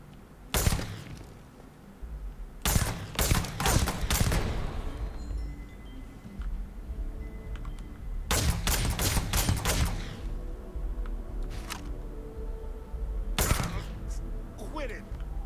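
Gunfire in the Starfield video game, loud clustered shots in quick bursts spread across the stretch, several separate volleys with quieter gaps between them.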